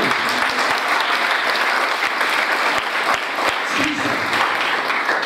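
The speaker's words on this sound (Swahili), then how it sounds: "Pigie Bwana Yesu makofi" A church congregation claps together in sustained, dense applause throughout, loud and close, with a few sharper individual claps standing out above the steady wash.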